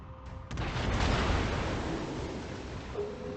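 Battleship artillery from World of Warships booms in, a heavy deep blast that swells and rolls into a long rumbling decay, fairly distant and moderately loud, with no voices.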